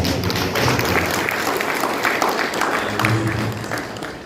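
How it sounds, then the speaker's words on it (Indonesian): Church congregation applauding during an evening service, a sustained dense clapping texture with crowd noise and faint voices mixed in, fading slightly at the end. "Berikan tepuk tangan dulu."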